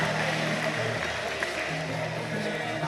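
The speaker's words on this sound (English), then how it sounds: "Give her a hand of applause, ladies and gentlemen." Audience applause at the Miss Samoa 2017 pageant, a steady wash of clapping that holds for the whole stretch, somewhat distant, with a voice speaking over it.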